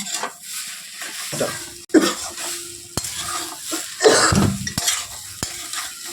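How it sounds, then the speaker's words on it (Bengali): A spoon scrapes and stirs spice masala for vegetable chops around a wok in uneven strokes, with clacks against the metal over a soft background sizzle. "এই মশলাটা ভালো করে মিশিয়ে নিতে হবে, ভালো করে মিশিয়ে নেব মশলাটা।"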